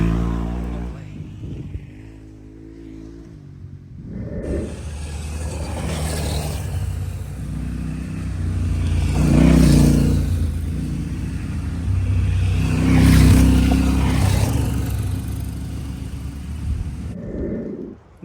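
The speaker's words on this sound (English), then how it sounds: "I'm going to get some footage of the bikes going by." A Voge 300 Rally and a Honda CRF 300 motorcycle ride past on a dusty track, engines rising from quiet to a loud pass with two swelling peaks, then fading away.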